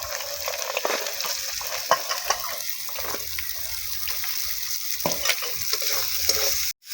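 Vegetables tossed with salt and turmeric in a kadhai for vegetable pakora, a spatula scraping and stirring with irregular clinks over a steady sizzle, close and alone with no voices, ending in a sudden cutoff.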